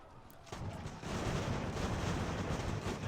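Cannon artillery fire in Ultimate General: American Revolution, faint distant booms that swell into a continuous rumbling barrage.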